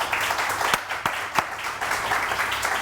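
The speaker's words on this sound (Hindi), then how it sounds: "लोग तालियां बजा रहे हैं" A studio audience on a morning TV show claps in a continuous wash of applause with a few sharper claps standing out, fairly loud and close, no one speaking over it.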